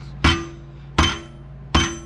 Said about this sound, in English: my preferred method is just kind of take this hammer